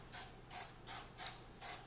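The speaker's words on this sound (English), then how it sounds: "I'm gonna use some regular Cisco canola oil spray. Just spray it on the bacon just a little bit" Five short bursts of canola oil spray hiss onto bacon in a kitchen, evenly spaced and close, each a sharp aerosol puff followed by a pause.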